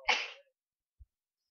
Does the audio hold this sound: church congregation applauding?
no